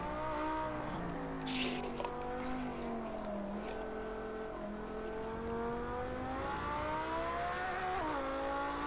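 Porsche Carrera engine in the racing game Project Cars 2, revving up and down through gear changes with rising and falling tones, steady and close, with a brief tire squeal early on.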